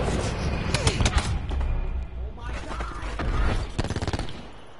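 Thresher strafing run in a multiplayer shooter game, rapid heavy gunfire bursts and thumping impacts in dense volleys, loud and close, with players talking over it.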